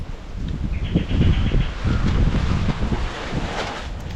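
Strong wind gusts roar and buffet the microphone in a steady, rumbling rush with no voices, at a house under construction in a Konkan village.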